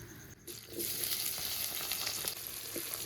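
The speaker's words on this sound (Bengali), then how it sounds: "বেশ লাল লাল করে পেঁয়াজটা ভাজবো" Chopped onion hitting hot oil spiced with dried chilli, cardamom and cumin for a chicken curry, a quiet start that jumps into a close, hissing sizzle with a few stirring scrapes.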